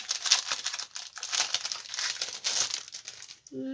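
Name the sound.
paper napkin being crumpled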